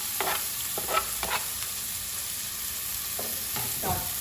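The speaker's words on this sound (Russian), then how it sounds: "Поджариваем лучок." Onion and carrot sizzle in a hot frying pan over a strong flame, a steady hiss broken by several short bursts of stirring and scraping, close up with no talk.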